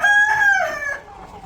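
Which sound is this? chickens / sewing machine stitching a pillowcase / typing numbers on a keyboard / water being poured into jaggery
chickens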